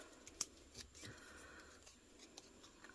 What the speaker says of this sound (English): So, snip a corner off.